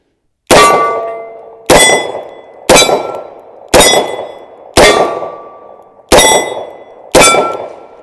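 A Smith & Wesson 686 Plus seven-shot .357 Magnum revolver fires seven sharp, loud .38 Special rounds at a target 10 yards away. The shots come at roughly one-second intervals, each ending in a brief ringing decay.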